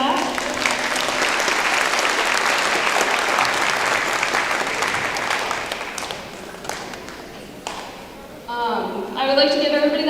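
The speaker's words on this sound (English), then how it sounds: "So if I could get a round of applause for that." A room full of people applauding steadily for several seconds at a school gala, dense and close, fading out before a voice begins speaking at the end.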